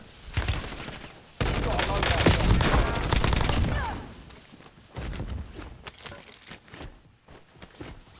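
Bursts of gunfire from the video game Call of Duty Warzone, dense rapid volleys that swell and then thin out into scattered single shots, loud and close.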